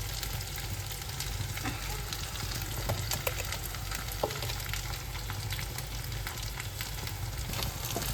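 Ground spice powders, including curry, turmeric, coriander and cumin powders, sizzle and fry steadily in hot oil for a jackfruit curry, a continuous close crackle with occasional stirring clicks and no talk.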